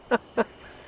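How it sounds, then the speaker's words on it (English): Two short, nasal quacking calls from birds in a flock ring out close together near the listener, followed by quiet background. "Hear the thousands of them?"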